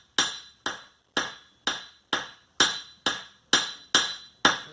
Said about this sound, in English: I'm going to hammer this material down with my blacksmith hammer